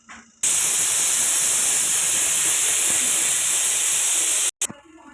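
A pressure cooker on a gas stove cooking mung beans with salt lets out a loud, continuous steam whistle. The hiss runs for about four seconds, then cuts off abruptly, leaving quieter kitchen noise.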